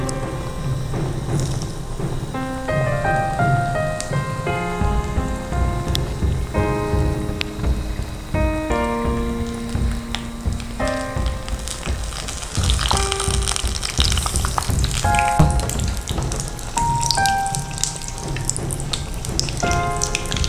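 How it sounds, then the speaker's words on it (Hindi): Spinach parcels sizzle steadily in hot oil in a kadai, a loud continuous crackle and spatter that runs the whole time, while musical tones play over the frying. "ऑयल को घुमाते हुए इन्हें फ्राई करें।"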